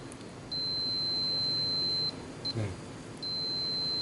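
Continuity-test beep from an AC/DC clamp multimeter: a steady high electronic tone sounding for about a second and a half, cutting out, blipping briefly twice, then resuming, with a faint word spoken in between.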